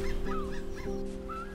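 A seagull squawks in a video game, a few short honking calls close up and alone over a steady tonal game background with no talk.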